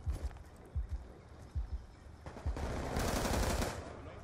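Hip-fire gunshots in the video game Black Ops 2, a scattered run of quick sharp bursts that turns into denser, louder gunfire toward the end under busy game noise.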